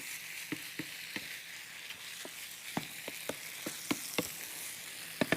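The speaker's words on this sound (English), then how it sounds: "Just stir it together." A beef meat mixture being stirred in a bowl, with a series of sharp spoon clicks and scrapes at an uneven pace over a faint background hiss; no talking.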